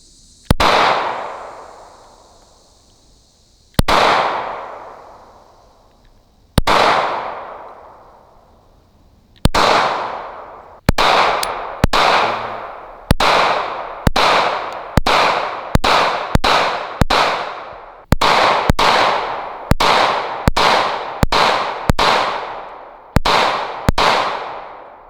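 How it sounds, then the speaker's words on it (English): Handgun shots fired one after another, loud and sharp with ringing decay, slow single shots at first, then quicker strings of rapid fire. "we just got done shooting"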